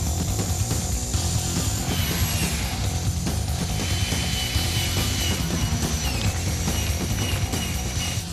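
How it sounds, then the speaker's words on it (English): A drill bit grinds steadily through honeycomb core material for a yacht build, a loud, continuous rasping and ratcheting buzz with no pauses, heard close up. "It's the most extreme drill bit I've worked with, that's for sure."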